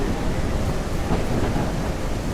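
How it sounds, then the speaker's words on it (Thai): Steady, heavy rain pours down in a dense, continuous hiss, loud and close, with a low rumbling undertone like a storm. "มืดมากแล้วเสียงอะไรอะฝนตกเหรอ"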